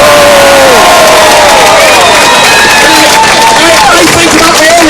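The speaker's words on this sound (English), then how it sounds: "Give yourselves a round of applause." A protest crowd at a city hall counter-demonstration cheers and applauds loudly, with shouts and whoops rising over clapping, very close and intense throughout.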